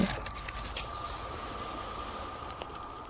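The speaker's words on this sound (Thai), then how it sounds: "เสียงรถไฟเนาะมันก็" A low, steady rumble of a train somewhere far off, faint and continuous, with a thin hiss of background noise and no talking.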